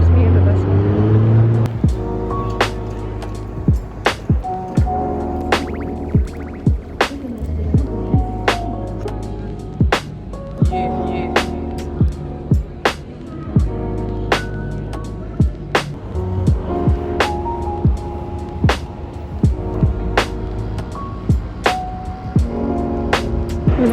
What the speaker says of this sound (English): We love a good empty subway car.